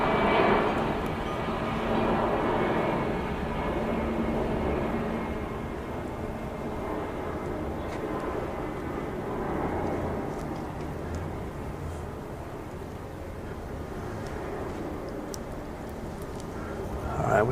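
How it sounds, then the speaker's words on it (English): A steady, broad roar of a large UPS cargo plane coming in for a landing, sustained and fairly loud throughout with a slow swell, in an outdoor setting; faint talk may sit beneath it. "That's a humongous UPS plane coming in for a landing."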